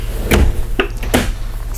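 A pull-out countertop extension in a 2016 Newmar Ventana 4369 motorhome slides back into place with three quick close sliding thumps and clacks in under two seconds, loud and near.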